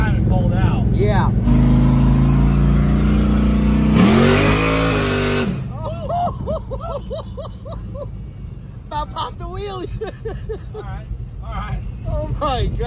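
A 632 cubic inch all-motor engine in a shop truck revs hard at a drag strip, a loud sustained roar rising in pitch then settling into a rough idle, with people talking over it.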